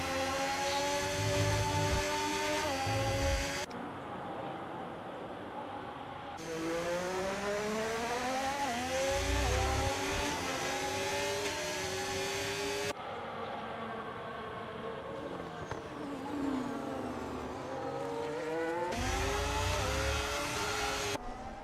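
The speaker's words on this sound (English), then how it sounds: "Lots of wheel spin for Daniel Bakalik on his 13-lap-old hards here." An F2 race car on 13-lap-old hard tyres in a racing video game at Bahrain, its high engine note whining and sliding up and down in pitch as the wheels spin, steady and loud throughout.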